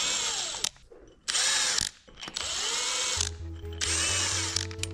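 A power tool drives and tightens bearing cap bolts on a KS series motor, sounding as loud whirring bursts separated by short pauses, with no talk.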